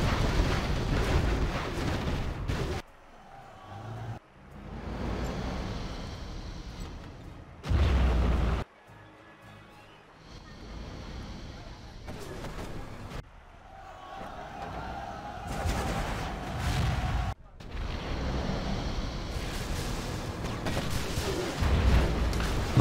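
Scud launcher missiles fire again and again in a desert battle game, with booming blasts and bursts of explosions under ongoing gameplay noise and a talking commentator.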